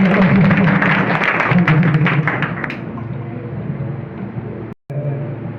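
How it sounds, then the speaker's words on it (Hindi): An audience at a women's honour event in Lalganj claps loudly to welcome the sub-divisional magistrate, a dense burst of applause that thins and fades over several seconds, with a brief dropout near the end. "हमारे उप जिलाधिकारी पश्चिम लालगंज से एसडीएम सर का एक बार जोरदार ताली से स्वागत करेंगे"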